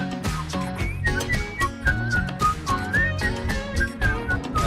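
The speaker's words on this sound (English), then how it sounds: "Do the whistle part. Oh, I can whistle." Someone whistles a bouncy melody over a rhythmic musical backing, the notes clear and lively throughout.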